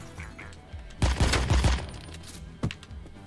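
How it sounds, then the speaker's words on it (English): A flashbang goes off in the tactical shooter game Door Kickers: Action Squad: one loud, crackling burst that fades over about a second, with a smaller sharp pop following shortly after. "Flashbang!"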